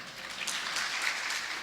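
Audience applause after a spiritual discourse by a monk, a steady wash of clapping from a crowd throughout, moderately loud with no voices over it.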